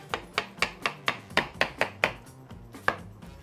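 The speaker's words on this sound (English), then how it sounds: "So I'm gonna start off by chopping up my watermelon." A knife chops through watermelon on a board in a quick, steady run of about a dozen crisp, close strikes, the rhythm slowing slightly toward the end.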